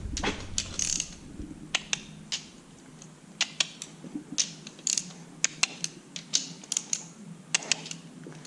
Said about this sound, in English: Change my torque wrench over.